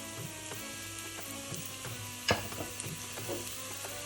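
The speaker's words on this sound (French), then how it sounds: "je mélange bien dans le fond de la cocotte" Paprika, turmeric, mild curry and grey pepper are stirred along the bottom of a cocotte with a quiet sizzle. A spoon scrapes and taps in uneven strokes, with one sharper knock midway. No one speaks.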